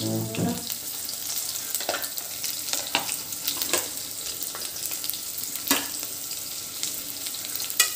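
Sliced onions and green chillies sauté in a pan for paneer vegetable pulao, giving a continuous close sizzle broken by sharp scrapes and taps of a spoon stirring at irregular intervals.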